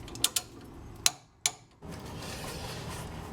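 A ratchet torque wrench tightens a suspension bolt on the upper control arm of a 1999 Miata rear suspension: a few sharp, close metallic clicks spaced apart, followed by a steady low mechanical rumble.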